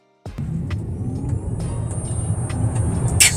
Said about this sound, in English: Want to give acceleration one more time? Yeah, one more.